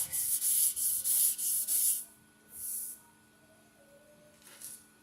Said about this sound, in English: if I sand that a little bit, right there, that keeps the block flat